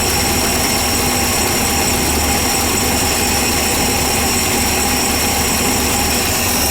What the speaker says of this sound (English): I can hear a tiny exhaust leak over there. That's a manifold gasket.